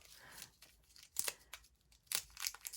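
Packing tape being torn off an advent calendar package: several short ripping and crinkling bursts, close and fairly quiet, with pauses between pulls.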